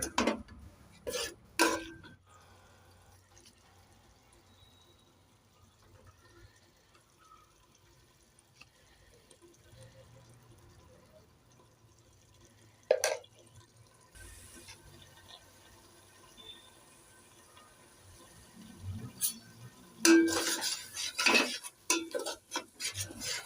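Spice paste for chicken biryani being stirred in a pot, with sparse metal-on-metal scrapes and clinks of a spoon separated by long quiet stretches, then a busier burst of scraping near the end, close but faint.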